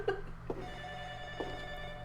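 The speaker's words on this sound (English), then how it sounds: "Got that phone ringing again." A telephone rings faintly in the horror video game Ju-On: The Grudge, with a few brief tones spaced apart over a low steady hum.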